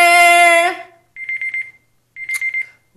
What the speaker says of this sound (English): Y'all hear that timer?